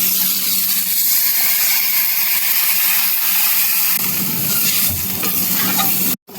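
Potatoes and lentil dumplings frying in a pan, a bright hissing sizzle that swells into a louder, bubbling surge partway through as water hits the hot oil, with faint stirring clatter.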